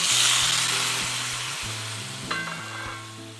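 Raw vermicelli roasts in ghee for a mango vermicelli custard, giving a steady close-up broadband sizzle with a few brief clinks of a utensil against the pan partway through; no one speaks.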